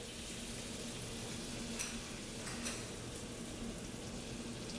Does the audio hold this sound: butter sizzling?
yes